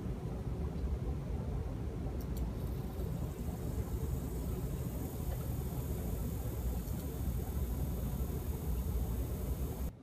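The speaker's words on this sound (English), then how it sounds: "activate the motor" A brushless motor driven by an IDEA drive spins steadily at 40 revolutions per second, giving a continuous broadband hum and rumble with a faint high whine that holds even throughout.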